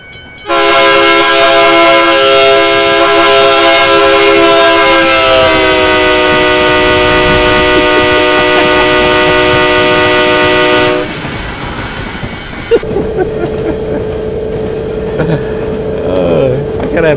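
A train horn in the Train Simulator 2020 game blares loud and close as a steady, chord-like blast for about ten seconds, dipping slightly in pitch midway, before cutting off to a low rumble with a voice talking over it.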